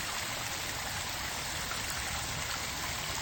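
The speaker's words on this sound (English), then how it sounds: "The stream runs through the property." Water flowing steadily through a newly built pondless waterfall stream lined with large boulders, a continuous close hiss and trickle with no voices.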